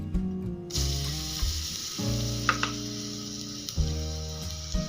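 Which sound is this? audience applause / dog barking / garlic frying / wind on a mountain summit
garlic frying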